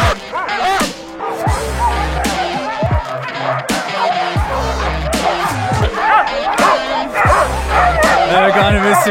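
A pack of sled huskies bark and yelp loudly and constantly in a dense, overlapping chorus before a husky tour in Toggenburg, close by and filling the whole stretch.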